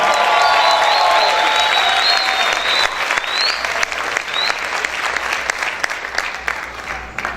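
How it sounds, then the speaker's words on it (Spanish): A church congregation applauds loudly, a thick continuous roar of clapping with a few whistles early on, gradually thinning toward the end. "Grite y aplaude fuerte al Señor."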